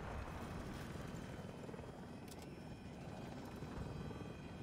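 A video-game helicopter flies close overhead, its steady rotor thrum and engine drone loud and constant throughout, with a couple of faint clicks partway through and no voices.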